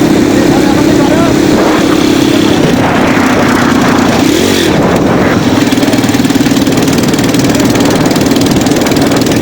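An engine runs loudly and steadily close by while someone drives at a beach town, a rough, buzzing drone with a low hum throughout and voices talking over it.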